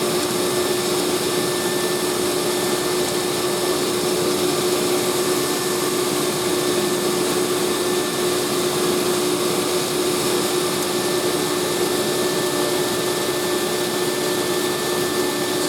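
A fluid bed coffee roaster runs with a loud, steady whooshing blower roar and a constant hum. The sound holds even and unbroken throughout, with no talk over it.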